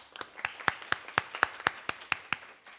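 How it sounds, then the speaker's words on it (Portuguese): A small group in a school youth council chamber session claps in a slow, fairly even rhythm, about a dozen distinct claps in a row, close and moderately loud, with no talking. "Uma salva de palmas."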